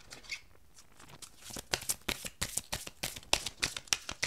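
Oracle cards drawn and handled from a deck, giving a quick series of sharp papery snaps and flicks that grow denser after a quiet start, close and crisp with no talking.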